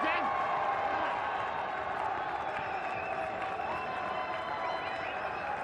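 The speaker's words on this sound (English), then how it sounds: "they're all out there applauding him" A cricket crowd in Pakistan applauds Anil Kumble's boundary during a 2004 India Test match, a continuous wash of distant clapping and crowd noise with voices mixed in underneath.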